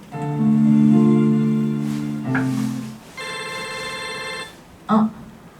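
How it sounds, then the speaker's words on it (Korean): A phone rings with an incoming call, a steady melodic ringtone that plays loud and close in two long bursts with a short chime at the end, with no talking. "마침 서연이한테 전화가 왔네"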